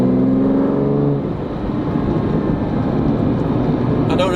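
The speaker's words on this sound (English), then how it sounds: "if you can hear the engine notes" A Lamborghini Diablo SV engine roars steadily with a brief tonal whine at the start, a strong rumbling drone continuing throughout.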